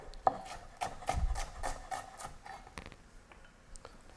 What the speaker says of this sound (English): I'm going to chop up a little bit of onion. We're just going to do nice thin slices.